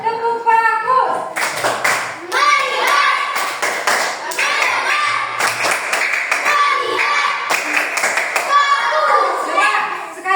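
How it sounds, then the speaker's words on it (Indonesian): Fourth-grade primary school children perform the rhythmic "tepuk bagus" class clap, sharp bursts of group claps in a patterned rhythm interleaved with chanted young voices, close and loud in a classroom. "Coba tepuk bagus."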